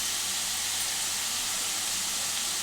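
Sesame and green chilli paste frying in a pan, a constant bright hiss and sizzle at a steady level throughout, loud and close, with no talking.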